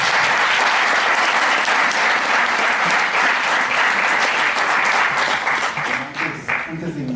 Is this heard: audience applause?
yes